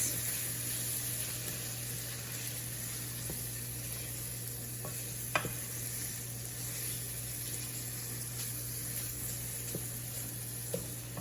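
Ingredients with paprika stirred in a hot pan, with a steady soft sizzle throughout and a few faint clinks of the utensil against the pan.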